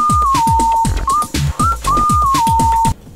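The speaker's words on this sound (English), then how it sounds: "Is this a guy with a slide whistle?" Slide whistle gliding up and down over bouncy video game racing music, loud and upfront, sliding pitches repeating across the track with drums and bass beneath.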